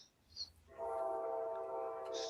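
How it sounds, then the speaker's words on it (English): A passing train sounds its horn, a steady sustained horn tone starting partway through and holding to the end, moderately loud against quiet rural surroundings. "Oh, I hear a train"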